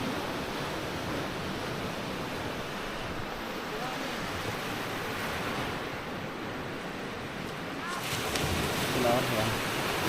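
Sea waves break along the shore of a coastal barangay in Narra, a continuous hiss of surf mixed with wind noise against the microphone, and a brief voice near the end.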